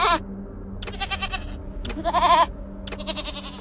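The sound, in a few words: goat cries (bleating) in the video game Wasteland 3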